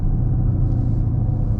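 A 2024 Chevy Camaro SS Collectors Edition with a naturally aspirated big V8 rumbles steadily and loudly, a deep, even engine drone close up with no rise in pitch.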